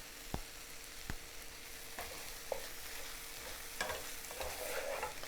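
A low, steady sizzle of scrambled eggs with tomatoes frying in a pan, broken by occasional sharp clicks and scrapes of stirring, with no talking.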